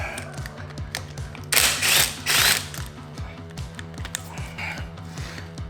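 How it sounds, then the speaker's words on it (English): Ratcheting wrench turning a bolt on a Subaru EJ25 boxer engine from a 2010 Subaru Legacy GT, giving a steady run of close, crisp clicks with a couple of louder scraping swings in the middle. "So I have a ratcheting wrench here"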